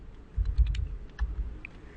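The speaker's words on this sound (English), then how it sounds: "we can use our arrows on the keyboard to adjust our insert" Computer keyboard keys being pressed while entering values for a regular hexagon drawing, a few soft clustered clicks and taps, close and fairly quiet, with no talking.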